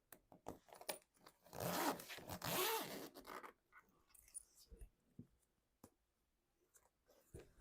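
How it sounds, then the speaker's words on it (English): A metal zipper pull is fitted onto a zipper while sewing a Cork Guardian backpack, a burst of close scraping and rasping zip sounds followed by small clicks, taps and metallic handling noises in a quiet room. "we need to, of course, add our zipper pull."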